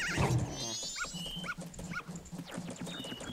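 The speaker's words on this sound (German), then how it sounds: "Ja, der Hund!" Dog in the video game Zelda: Majora's Mask barking in short repeated yips, about four or five in a row, over steady game background music.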